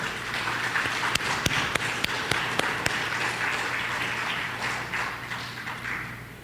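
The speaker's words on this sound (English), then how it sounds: "please give us a round of applause for our line minister" A crowd at a Christmas dinner applauds steadily for a minister, a dense wash of clapping with a few sharper nearby claps standing out, slowly fading toward the end.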